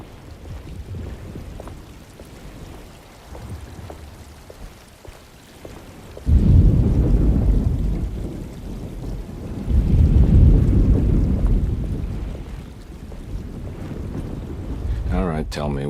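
A thunderstorm with rain and wind in the horror video game Alone in the Dark (2024): steady rain hiss and gusty wind, broken by two heavy rolling thunder rumbles, with faint voices in the mix.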